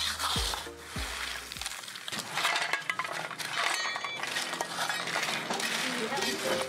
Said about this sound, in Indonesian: pada saat para gadis mengaduk kacang, mereka melakukannya dengan cara yang lembut dan lebih berirama